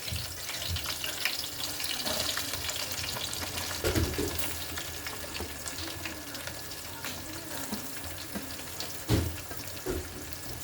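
Chicken pre-boiled with turmeric, salt and chili fries in a little oil, giving a steady close sizzle with occasional stirring clatter and soft watery splashes throughout, no voices.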